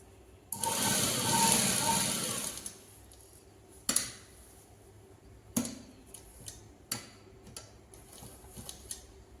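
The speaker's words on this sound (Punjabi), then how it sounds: "ਆਪਾਂ ਟੱਕ ਤੇ ਧਰ ਕੇ ਆਪਾਂ ਨੇ ਇਹ ਸਿੱਧੀ ਸਲਾਈ ਲਾਉਣੀ ਹੈ" A sewing machine runs a straight stitch along a garment neckline in one steady two-second whir, followed by scattered clicks and taps of fabric handling nearby.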